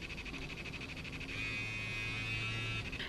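A vibrating toy buzzing steadily, first in rapid pulses and then shifting to a longer continuous hum at a different level, close and fairly loud, with no talking.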